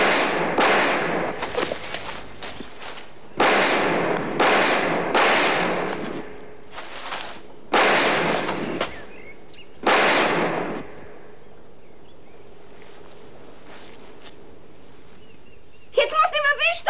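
Gunshots fired at an animal, several loud, sharp bangs spaced a second or two apart with reverberant tails, then a quieter stretch ending in a brief rattling noise.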